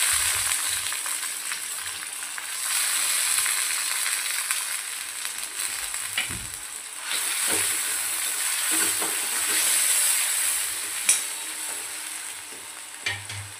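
Tomatoes fry in oil in a pan for a Marathi-style drumstick curry, giving a steady sizzle for the whole stretch, with a few clinks and stirring scrapes on top and no talk.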